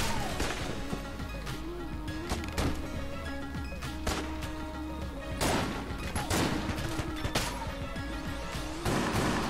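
Gunfire from the twin-stick roguelike shooter Enter the Gungeon. Sharp shots and crashing impacts come close together over a steady game backdrop of music and effects.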